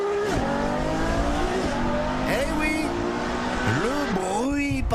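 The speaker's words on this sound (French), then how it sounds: "Parce qu'une Ferrari, ça fait du bruit, c'est même à ça qu'on la reconnaît." A Ferrari sports car engine roars loudly and continuously, with rising and falling revs and gear changes, close and dense, while faint tire noise mixes in.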